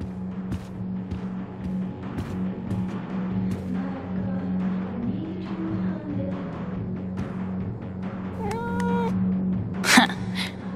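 A cat meows repeatedly in Life is Strange True Colors, the cries rising and bending clearly over a steady low hum, with one sharper, louder yowl near the end.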